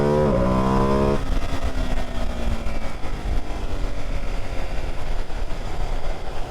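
A 2025 Ducati Panigale V2S motorcycle accelerating on a road, a loud engine note climbing through a short rising sweep before settling into a steady roar with rushing wind noise, no voices.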